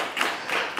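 A small audience claps in a brief, sparse burst, a few hands patting at a steady, moderate loudness in a room.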